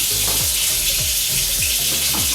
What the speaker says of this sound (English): I'm going to run it under some water.